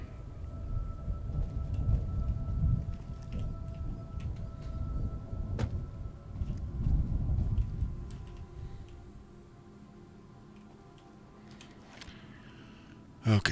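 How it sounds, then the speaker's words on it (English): Low rumbling thunder from a storm in Fallout: New Vegas, a steady dull roll with swelling peaks that rises and falls for several seconds, then eases into a quieter hum with a brief crack at the end. "I wonder if there's actually a storm coming."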